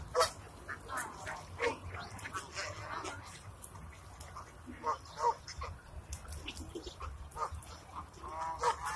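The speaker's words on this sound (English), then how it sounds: "Yeah, the big ones are geese." Geese at the water's edge during a duck-feeding outing honk repeatedly in scattered loud calls throughout, mixed with other waterfowl, while people talk nearby.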